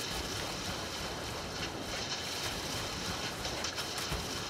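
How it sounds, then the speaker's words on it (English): A giant waterfall in The Legend of Zelda: Breath of the Wild gives a continuous, even roar of rushing water, with no other sound rising above it. "That's a giant waterfall."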